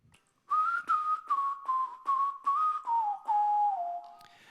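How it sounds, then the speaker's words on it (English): A whistled melody from a song plays as a clear, pitched tune of about eight short phrases. Each phrase is separated by a brief gap, and the line drifts slowly downward in pitch. "there's one thing that we missed, which was the whistle."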